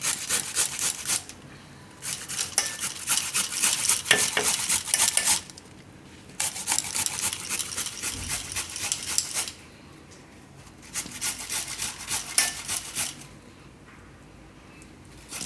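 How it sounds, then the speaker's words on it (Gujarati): Peeled ginger being grated straight into a batter, heard as bursts of fast rasping scrapes in close, loud runs lasting a few seconds each, separated by short quiet pauses. "તો આદું છે એને આપણે ડાયરેક્ટ આમાં જ છીણી લેવું."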